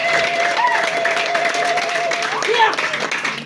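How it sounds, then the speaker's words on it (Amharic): A church congregation claps and cheers loudly, and voices and calls rise through the continuous applause. "አሜን አጨብጭቡ"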